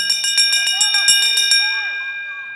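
Bell rung hard and fast for the final lap of a junior championship cycling race, with bright repeated clangs that ring out and fade. Faint commentary runs underneath.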